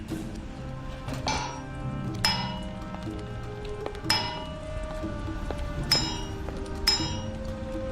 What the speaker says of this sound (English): Yes, hit iron with hammer.